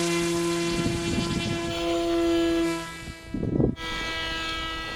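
An Opterra 2 m flying wing RC plane drones overhead with a steady, harmonic motor whine. Near the end a brief rush of wind noise breaks in before the whine continues.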